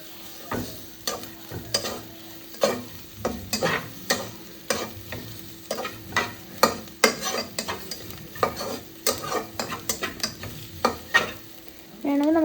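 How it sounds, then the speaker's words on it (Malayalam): Egg fries in a pan for onion noodles, stirred briskly with a utensil that clacks and scrapes rhythmically over a constant sizzle, close and fairly loud. "പച്ചമണം മാറുന്ന വഴിക്ക് നല്ലോണമായിട്ട് ഇളക്കി കൊടുക്കുക"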